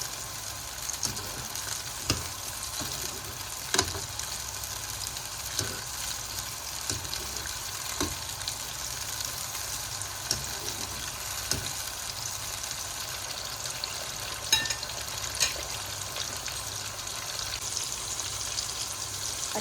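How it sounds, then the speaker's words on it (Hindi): Capsicum (bell pepper) pieces fry in a pan with a steady broadband sizzle and crackle, broken by occasional clicks of stirring; close and continuous, with no talk. "शिमला मिर्च को हम थोड़ा ही फ्राई करेंगे, इनको हमने बहुत ज़्यादा फ्राई नहीं करना।"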